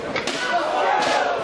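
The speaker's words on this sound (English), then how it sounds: "Another pan to the head." A pan strikes a wrestler's head during a Wardlow vs. McChesney title match, landing as sharp thuds, one early and one about a second later, under ringside commentary and crowd noise.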